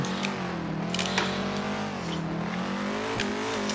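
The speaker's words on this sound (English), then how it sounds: "Take it easy in third gear, handbrake entry." A Mustang drift car at the E-Town track, held in third gear on a handbrake entry, with a loud, close, steady engine drone whose pitch wavers and dips briefly at moments, alongside faint tire noise and no talking.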